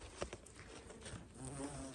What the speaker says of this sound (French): C'est génial avec tous ces papillons, ces bourdonnements.